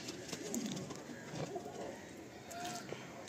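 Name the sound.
pigeon cooing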